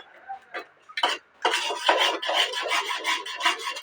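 A spoon stirring thick carrot sweet with ghee in a pan makes repeated close, rasping scrapes, sparse at first and then quickly back and forth in a steady rhythm.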